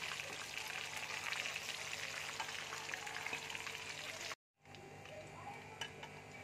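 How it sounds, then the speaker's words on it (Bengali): Momos deep-frying in oil over a medium-low flame, a faint continuous bubbling sizzle that briefly cuts out, then resumes more quietly. "এটা তোমরা মিডিয়াম টু লো ফ্লেমে ভাজবে, তাহলে ভাজাটা খুব ভালো হবে।"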